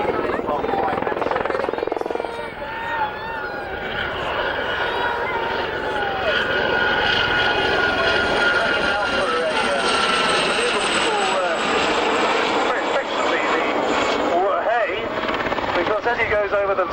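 Army Air Corps aircraft fly aerobatics at the 1996 Middle Wallop airshow, a loud, continuous engine and rotor drone that swells and shifts in pitch as they loop overhead, with an announcer talking over it throughout.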